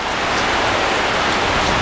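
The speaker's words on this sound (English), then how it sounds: "This rain is not allowing much more" Steady rain falls outdoors, loud and continuous, a dense even hiss of drops hitting surfaces with no pauses.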